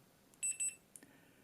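A multimeter continuity tester gives two short, bright beeps while its probes touch a solder joint on a circuit board inside a Yaesu FT-817ND radio, followed by a faint click, all at close range in a quiet room.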